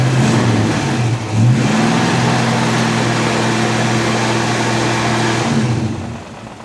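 An old California car's engine revs hard and loud close by, a sustained roar with one brief dip before it winds down at the end.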